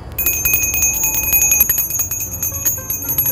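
A bell rings loudly and repeatedly at close range, its bright sustained metallic tones struck in a fast irregular rhythm for a few seconds with no voices.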